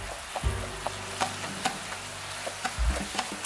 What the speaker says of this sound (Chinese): 保持中火煮酱汁，煮的时候要边煮边搅拌